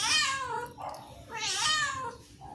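A black kitten meows twice, loud and close, each cry a drawn-out, high, wavering call with a short pause between.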